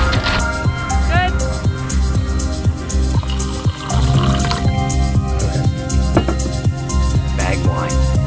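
Wine poured from a bag-in-box aboard a sailboat at anchor: a continuous trickling, dripping stream of liquid filling a glass, close and fairly loud, with a faint background musical tone.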